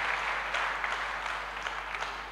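A church congregation claps for the shepherd mothers in a steady, dense round of applause that fills the whole stretch at moderate volume, with no voices heard over it.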